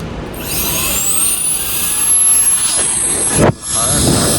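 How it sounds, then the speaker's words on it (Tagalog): An electric fan is switched on and spins up to its high setting in a freezing Saskatchewan winter, a steady whooshing roar with a rising whine that holds loud and constant, briefly dipping near the end. "Fan."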